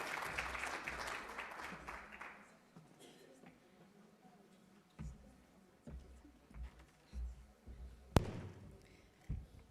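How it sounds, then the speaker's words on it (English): An audience claps at a relaunch event for the Right Start Programme, a dense burst of applause at the start that fades out, followed by quiet room sounds and a few scattered thumps. "while you are clapping"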